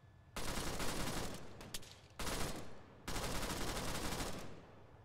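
Gunfire in the military shooter ARMA 3 comes in three long, dense bursts of rapid shots. The bursts are separated by short quiet gaps, and the fire sounds loud and close.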